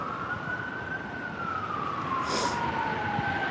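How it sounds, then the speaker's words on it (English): Ambulance and police car sirens wail through a New Orleans street, a loud continuous sweeping tone that slowly rises and falls as the vehicles pass, over a dense traffic rumble. "I hear one ambulance and one police officer, so they must be escorting the ambulance to the hospital"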